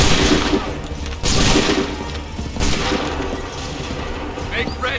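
A musket volley in Assassin's Creed III booms out as loud, dense bursts of massed gunfire, with a second crash following shortly after and smoky rumbling echo trailing between them.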